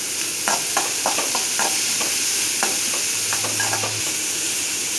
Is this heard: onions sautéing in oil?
yes